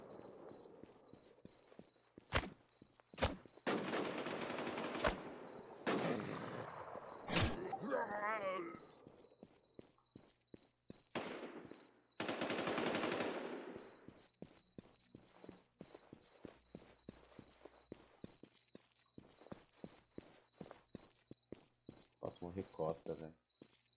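Gunshots from several players in the survival shooter Infestation: The New Z, sharp broadband cracks scattered across the first half with a few heavy bursts, over a steady high-pitched insect-like ambient drone and game footsteps.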